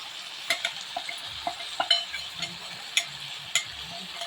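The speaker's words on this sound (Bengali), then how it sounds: "দেখুন ভালোভাবে কষিয়ে নিচ্ছি মশলাটা দিয়ে।" Tomatoes and spice masala are sautéed in a pan under a constant close sizzle, with about eight quick scraping strokes of a spatula as the mixture is stirred.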